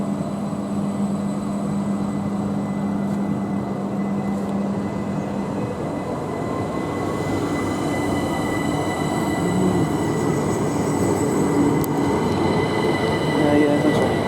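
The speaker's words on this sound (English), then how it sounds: "There goes my 7 train, 377-451." A Class 377 electric train, unit 377451 on the Havant to Portsmouth Harbour line, rolls past close by with a steady loud rumble and faint wheel squeal over about fourteen seconds, growing slightly louder toward the end.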